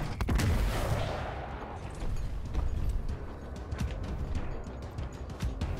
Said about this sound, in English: Incoming rocket.